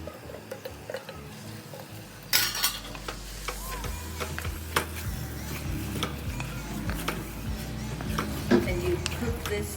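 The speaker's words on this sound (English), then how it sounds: "now we're going to put the meat in" Minced meat going into a pan of just-softened onions with a sudden loud sizzle, followed by a steady frying hiss and intermittent scraping stirs, close up and without talk.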